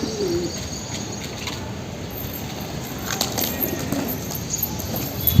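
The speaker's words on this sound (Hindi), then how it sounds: "बाहर से कबूतर आ रहे हैं।" Pigeons coo softly on a rooftop amid steady outdoor ambience, their low murmuring calls blending with faint background chatter and occasional higher bird chirps.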